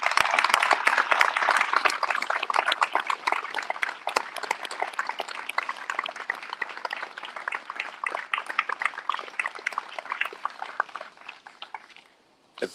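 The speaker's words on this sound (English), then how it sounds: "Can we please have a round of applause for Lance Corporal Schmidt?" Sustained applause from a crowd at a Veterans Day ceremony, dense clapping that holds steady and then tapers off to silence at the end.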